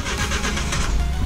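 A brand-new engine in a Suzuki Every Wagon kei van cranks and fires up, a steady, close mechanical churn of engine noise with a rough, pulsing rhythm running throughout.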